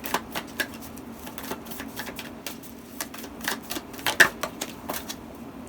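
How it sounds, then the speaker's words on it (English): Tarot cards are shuffled and laid out close by: a series of crisp, irregular snaps and flicks, some clustered, some spaced out, sharp and fairly quiet over faint room tone, with no talking. "I'm just going to do 1 row first, shuffle the whole thing, and then lay out all the cards"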